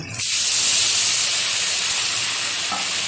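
Water hits a hot pan of fried paneer in spiced masala, bursting into a loud, sustained steaming hiss that fades slightly over a few seconds, with no voices.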